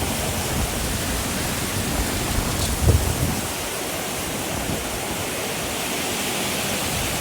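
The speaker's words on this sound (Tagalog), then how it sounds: "Ulan, lakas ng hangin." Heavy rain and strong wind pour down as a steady, dense broadband roar, with one brief louder gust or splash partway through. No voices.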